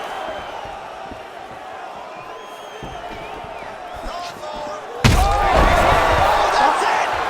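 A crowd in the video game UFC 5 erupts into loud cheering partway through a Jon Jones vs Cain Velasquez fight, following a sharp impact and quieter arena ambience.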